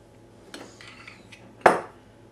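Warm chocolate mixture is spooned and spread onto a TARDIS cake, giving a few soft scrapes followed by one sharper clink of a spoon or table knife against a plate, close and quiet.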